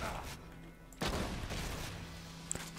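Gunfire in Borderlands 2's Tiny Tina's Assault on Dragon Keep, a few scattered shots and a heavier burst among game sounds, moderately loud.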